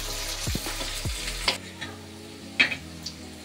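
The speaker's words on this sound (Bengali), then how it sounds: "যেরকম বেরেস্তা করে সেরকম বেরেস্তার মতন ভাজবো।" Onions fry in oil toward golden beresta for a fish rezala. A loud sizzle first, then a quieter hiss broken by a few clinks and scrapes of stirring.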